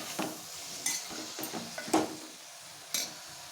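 Amaranth leaves sizzling in a pan, soft frying hiss broken by a few sharp clinks and scrapes of stirring, close and fairly quiet.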